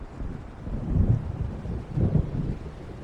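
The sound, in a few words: thunder of approaching storm in video game Alan Wake Remastered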